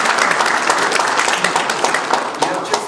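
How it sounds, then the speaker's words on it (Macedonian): An audience at a DSR party coordination meeting with municipal organizations claps in a dense, sustained burst of applause filling the room. "Еден аплауз за"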